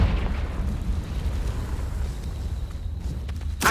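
A Confringo explosion spell in Hogwarts Legacy, heard as a low, rolling rumble that lingers at moderate volume before a sharper burst cracks out right at the end.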